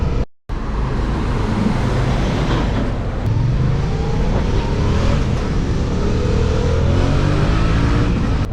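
An Audi RS3 accelerates past on a road, a loud engine roar rising as it nears and then sweeping by. It follows a brief cut at the start and is set against continuous rushing road and wind noise.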